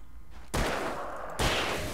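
Two loud, close gunshot blasts in Alan Wake, a headshot, each a sharp crack followed by a long, noisy decay, spaced almost a second apart.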